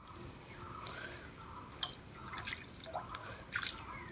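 Water dripping while plants are watered in a home setting, heard as a few faint, scattered drips and small splashes over a quiet background, with one sharper splash near the end.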